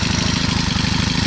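A 4-stroke chainsaw engine idles close and loud with a fast, even, throbbing pulse like a motorcycle, alone and without talk.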